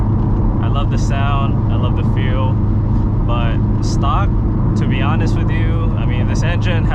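A steady, loud drone from a Subaru WRX STI engine with stock exhaust fills the background while someone talks over it continuously.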